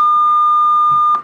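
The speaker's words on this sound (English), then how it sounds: "I'll play the same frequency out of both speakers." A steady 1209 Hz pure electronic tone plays from both speakers, loud and unbroken for over a second, then cuts off abruptly with a faint click.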